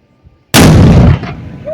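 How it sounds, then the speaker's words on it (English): A single very loud, close anti-tank gun blast fired at an outdoor car show by the USS Orleck, a sharp boom with a long rumbling decay after a quiet lead-in. "We're going to be firing this anti-tank gun once an hour, on the hour"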